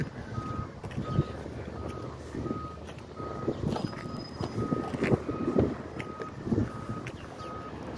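A McNeilus recycling truck on a Peterbilt chassis backs up, its steady backup beeper repeating about twice a second over diesel engine rumble and wind noise.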